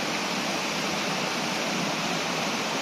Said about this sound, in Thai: ถึงตรงนี้ คือน้ำตกเลย